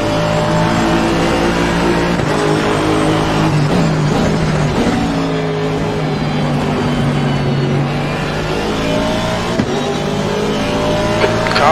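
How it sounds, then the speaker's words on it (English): A race car engine revs hard while leaving the pits in Assetto Corsa Competizione, loud and close, with rising and falling gear-shifting whine and a few tire and transmission noises. "Car leaving the pits."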